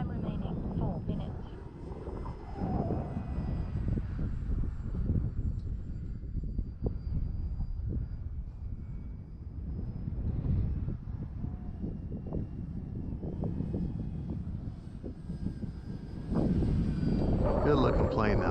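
An E-flite AT-6 Texan RC model airplane drones steadily overhead through the whole stretch at moderate distance, swelling louder toward the end, while people talk intermittently nearby.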